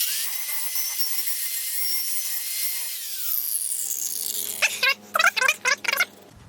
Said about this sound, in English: I'm using just an angle grinder, and I'm going to keep the same edge